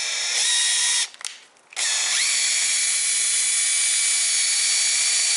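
Flex PE 14-2 or 3401 rotary polisher running with a loud steady whine, cutting out for about a second and then spinning back up to a constant drone.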